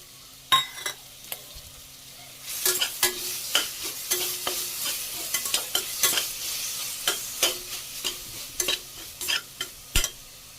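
Ginger garlic paste frying for mutton sukka, with loud sizzling and repeated sharp scrapes and clinks of a stirring spoon against the pan, close and busy throughout with a brief quieter start.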